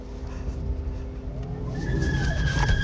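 A 2022 DFSK Mini EV is pushed into a brief drift during a test drive, and a thin tire squeal rises out of steady road and cabin rumble, growing louder toward the end.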